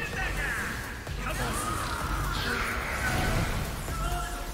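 Bird cawing in the video game Devil May Cry 5 sounds as harsh, crow-like calls layered over busy game effects and music, loud and close, with a few sharp bursts rising above the dense background.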